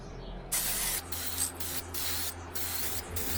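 An aerosol spray can applies clear coat paint to a Mini Cooper S R53 car interior in several short, loud hissing bursts separated by brief pauses, with no voices.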